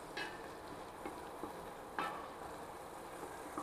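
Garlic frying in a pan for pancit gisado: a soft, continuous sizzle with a few light stirring scrapes, close but quiet, no voices.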